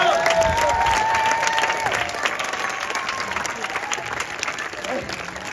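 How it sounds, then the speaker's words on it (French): An audience at an outdoor street-performance festival in Vevey, Switzerland claps steadily in dense, continuous applause that slowly fades, with a voice speaking over it. "vos applaudissements, c'est pas pour moi"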